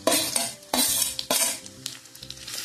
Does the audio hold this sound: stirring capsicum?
yes